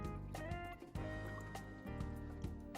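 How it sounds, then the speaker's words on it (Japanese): Milk poured from a container into a frying pan while making white sauce for crab cream croquettes, a soft liquid splash and trickle lasting a few seconds over a steady tonal background. "全体がきちんと混ざったら、また牛乳を3分の1入れます"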